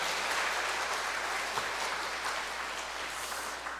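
A church congregation applauds its teachers at a worship service, steady dense clapping from a crowd that stays even throughout before easing slightly near the end.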